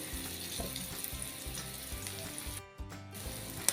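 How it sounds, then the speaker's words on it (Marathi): Pala fish pieces frying in oil, a steady crackling sizzle at moderate distance that dips briefly near the end and then resumes, with no voices. "मी ह्यामध्ये ना जवळजवळ चार पीस मी फ्राय करून घेते"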